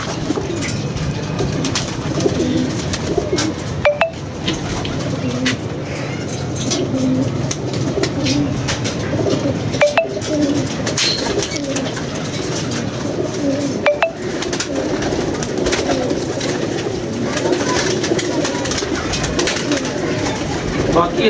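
Pigeons cooing close by, low soft coos repeating throughout with scattered clicks and knocks, and a faint voice now and then in the background.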